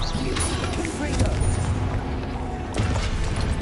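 A Confringo spell explosion in Hogwarts Legacy, heard as a couple of booming blasts over busy game noise and a speaking voice.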